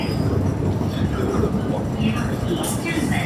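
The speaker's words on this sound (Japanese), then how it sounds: "すげえ、あっち側にも電車来てるわ。" Loud, continuous rumbling of a train arriving at a station in Hong Kong, rolling past close by, with a brief high squeal near the end.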